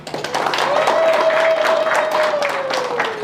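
Audience applause at a Zimbabwean awards ceremony, a full sustained round of clapping from a large crowd, with a faint tone running beneath and some voices in the hall.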